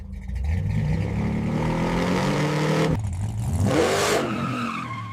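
A 1969 Dodge Charger V8 revs hard and burns rubber, a loud rising engine roar that drops off, then a sharp tire squeal and skid before the engine settles, with no talk.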